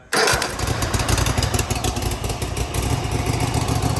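Cub Cadet ZT1 zero-turn mower engine firing up abruptly and settling into a loud, close, steady running rumble with a buzzing throb, no talk over it.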